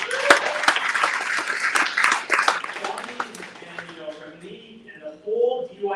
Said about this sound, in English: Can everyone give him a round of applause?